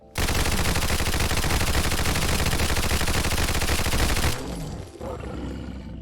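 An American 180 .22 submachine gun fires in a video game, one long, unbroken, rapid-fire burst emptying a whole magazine, loud and close, before it cuts off and leaves quieter ambient game sound.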